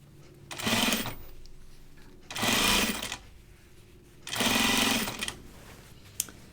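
A sewing machine stitches a kimono-style shirt dress in three separate runs of rapid, buzzing stitching, each about a second long, separated by quiet pauses, close and clear with no talk.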